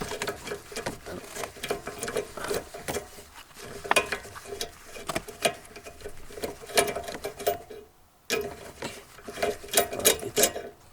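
A 10mm bolt is turned with a socket wrench inside a 2002–2009 Toyota Prius, close rapid ratcheting clicks in uneven bursts with a brief pause, no talking.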